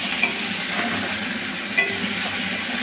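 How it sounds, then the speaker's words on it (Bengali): Prawns frying in oil in a pan, a continuous crackling sizzle with two brief spatula clinks, close and fairly loud, no one speaking. "চিংড়ি মাছগুলোকে এবার লাল লাল করে আমি ভেজে নেবো।"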